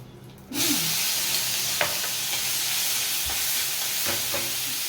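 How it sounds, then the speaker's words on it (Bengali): Green chili paste hits hot oil with a sudden loud sizzle that settles into a steady close hiss, with occasional soft taps from a stirring spoon. "তেলটা গরম হয়ে গেছে, এখানে একটু হলো কাঁচা লঙ্কা বাটা দিলাম"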